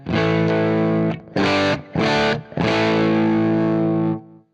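An electric guitar runs through a Pettyjohn Chime MKII germanium pedal, playing a few loud, driven chord stabs followed by a long ringing chord that fades.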